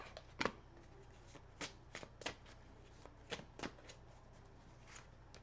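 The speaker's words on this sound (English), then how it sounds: "we'll pull some cards here to clarify this. The cards are jumpy." Tarot cards being shuffled and pulled at close range, a series of sharp papery riffles and flicks spaced irregularly over a faint steady hum, with no voices.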